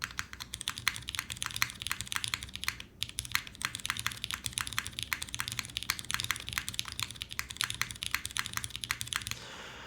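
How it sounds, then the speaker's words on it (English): Rapid, steady typing on a custom patinaed Unikorn mechanical keyboard fitted with vintage Cherry Nixie switches, dense close clacking keystrokes continuing alone with one short pause. "So I actually do want to see what a Cherry Nixie would sound like in this."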